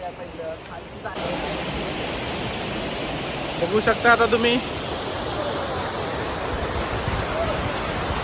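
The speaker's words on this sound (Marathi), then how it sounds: "बारमाही वाहणारा हा धबधबा." A perennial waterfall in the Konkan hills near Chiplun during the monsoon, its steady roar of rushing water filling the scene continuously, with a person speaking briefly over it midway.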